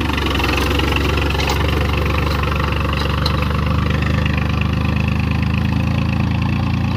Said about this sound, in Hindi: ले भाई दूसरा गियर गाल दिया ट्रैक्टर लेकर चले बैठे